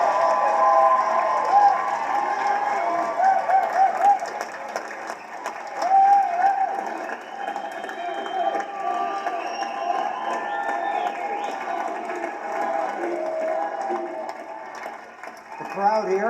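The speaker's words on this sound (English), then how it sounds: "The crowd here obviously is very supportive of this candidate." A debate audience cheers and applauds a candidate, a sustained crowd roar mixed with clapping that swells and dips throughout, with voices calling out over it.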